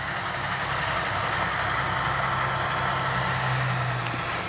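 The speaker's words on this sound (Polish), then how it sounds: "No, walterka sobie śmiga." A Valtra tractor drives through a forest, its engine a steady, unbroken drone with a low hum that holds for several seconds, with no voices.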